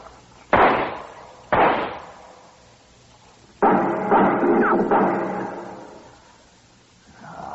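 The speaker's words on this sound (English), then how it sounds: "Well, I'll put a couple of shots in there." Gunshot sound effects in a 1953 Western radio drama: two sharp cracks about a second apart, then a longer burst of reports with ringing decay, loud and close.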